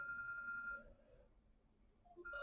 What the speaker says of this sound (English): There's my phone going off.